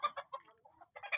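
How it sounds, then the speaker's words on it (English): Chickens and young roosters cluck in a quick, busy series of short calls in the rural Philippines, fairly close, with brief pauses between bursts. "here we have then some cockerels."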